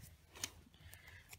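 Scissors cut through green paper, giving a couple of faint, quick snips close by in a quiet room.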